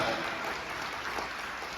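A church congregation at a service claps together in a steady wash of applause, dense and fairly loud throughout, with no single claps standing out.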